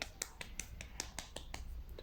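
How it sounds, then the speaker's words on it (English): A single person gives weak, quiet applause by tapping an earpiece held in the hand, a series of about ten light, evenly spaced clicks up close. "Very weak applause, my bad."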